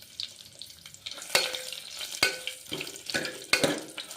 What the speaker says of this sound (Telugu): కాస్త రెడ్ కలర్ రాగానే ఎండుమిరపకాయలు వేస్తున్నాను.